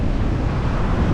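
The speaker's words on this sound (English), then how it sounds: "given the rubbishy weather that's been going on and the size of these waves" Large ocean waves surge in rough, rubbishy weather at an outdoor swimming spot, a loud, constant low roar of surf mixed with wind buffeting the microphone.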